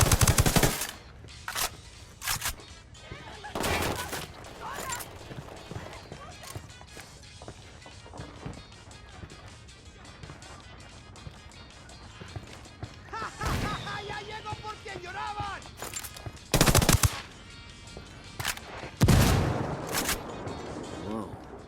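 Automatic submachine gun fire in the Ghost Recon Wildlands video game, with several loud sharp bursts spread across the clip over a steady background of game ambience and voices.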